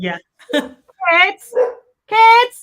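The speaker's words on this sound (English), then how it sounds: "I don't know whether you can hear my dogs barking" Several dogs bark and yip in short, sharp bursts, close by, with a brief spoken word mixed in between barks.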